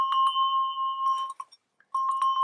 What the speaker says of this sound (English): Here's a Noah bell.